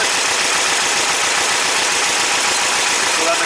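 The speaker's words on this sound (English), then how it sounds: "there's a little bit of a vibration on the engine, and that's because the carbs are not sinking correctly, so the idle, the engine is knocking" An engine fitted with dual EMPI 40HPMX carburetors idles loudly and continuously with a hissy, slightly uneven rumble from carbs not yet in sync, while a person talks over it.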